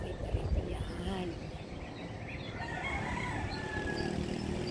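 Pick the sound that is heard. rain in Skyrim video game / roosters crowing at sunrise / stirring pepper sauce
roosters crowing at sunrise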